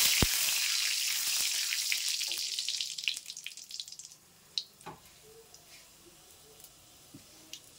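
Mustard seeds frying hot in a pan hiss loudly at first, then the sizzle fades away and leaves scattered faint pops and a few clinks from stirring.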